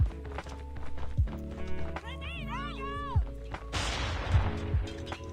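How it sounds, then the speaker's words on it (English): Grenade blasts and gunfire in a Call of Duty Mobile tournament match: sharp thumps and a large burst of noisy explosion crash toward the end, mixed with game music tones and continuous background clatter. "So many grenades just to stop that Nox fast push"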